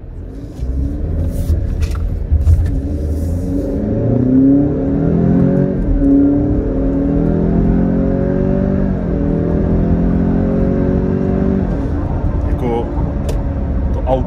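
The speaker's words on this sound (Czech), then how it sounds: "jdu se s autem svíst trošku ve sportovnějším režimu" Car with a turbocharged four-cylinder engine driven in sport mode, a steady engine drone with rising and falling harmonic pitch as it accelerates through gears, heard from inside the cabin with a voice talking over it.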